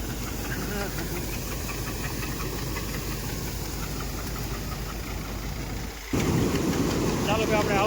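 A farm tractor engine runs steadily at close range with a knocking, mid-pitched idle, briefly dipping before picking up louder near the end.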